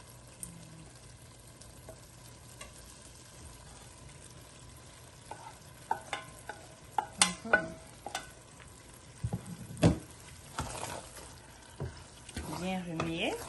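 Pondu with fish being stirred in a pot, a low steady simmer broken by scattered scraping and clinking strokes that grow busier toward the end, with no one talking.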